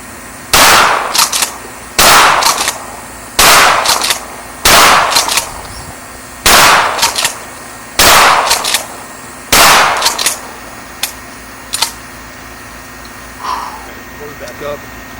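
A Remington 870 Wingmaster 20 gauge shotgun fires seven loud, sharp blasts roughly a second and a half apart, each with a short echoing tail, followed by a few quieter clanks.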